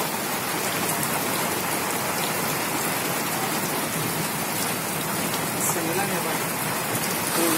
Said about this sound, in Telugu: వడగళ్ల వాన దాదాపు 2 గంటల సేపు కురిసింది